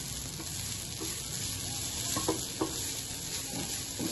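Grated papaya thoran frying in a pan gives a steady, close hiss of sizzling throughout, with a few faint scrapes and taps as it is stirred.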